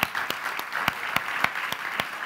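A small audience claps at a youth event, with several sharp, distinct claps standing out in a loose rhythm over a steady patter of applause, moderately loud.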